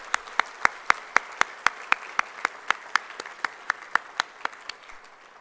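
Steady, rhythmic hand clapping sounds close by at a fire and rescue luncheon, about four claps a second over a soft bed of wider applause. The claps gradually thin and fade toward the end.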